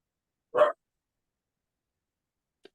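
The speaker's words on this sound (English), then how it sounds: "Somebody got a dog? Yes. She's barking." A single short dog bark, fairly close, followed by silence and a faint tiny yip near the end.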